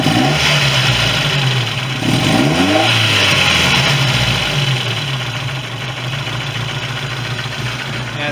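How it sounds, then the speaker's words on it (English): A car engine with newly installed cams idles with a steady rumble and top-end ticking, then revs up briefly near the start before settling back to a busy, noisy idle. "Yeah, it seems like some top end noise."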